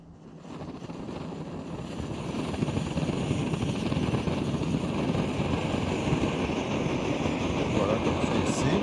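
A liquid-fuel camping stove makes a steady, loud roaring rush that builds over the first few seconds and then holds constant, like a pressurized burner running at full flame.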